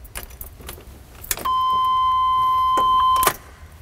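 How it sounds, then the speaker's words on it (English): A car ignition key clicks over, jangling briefly, then a steady electronic chime rings out for about two seconds before stopping, close and fairly loud, with no voices. "And all we can do is turn the key on."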